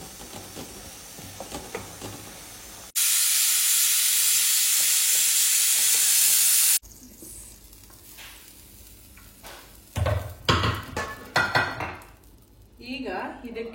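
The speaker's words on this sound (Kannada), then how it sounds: "ಆ ಆನಿಯನ್ ಹಾಕೊಂಡು ಮತ್ತೆ ಇಕ್ಕಿದ ಬೇಳೆನ ಫ್ರೈ ಮಾಡ್ಕೊಳ್ತಾ ಇದ್ದೀನಿ" Split lentils and onion frying in hot oil for a mutton sambar, a close sizzle interrupted by a loud burst of spattering, then stirring and clatter of a utensil against the pan.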